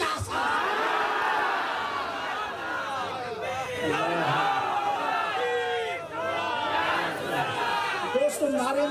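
Crowd at a Milad religious gathering chanting slogans in unison, a loud, dense mass of voices swelling in repeated waves, with a lone voice leading at the end.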